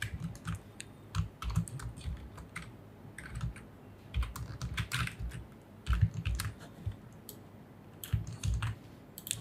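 Rapid, uneven typing of jQuery code on a computer keyboard, dense close-up key clicks in short flurries with brief pauses, no voices.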